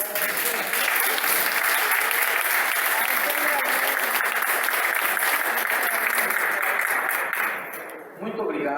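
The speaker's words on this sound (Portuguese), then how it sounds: "Uma salva de palmas." Lecture audience breaks into sustained, loud applause, a thick wash of many hands clapping for several seconds before tapering off at the end.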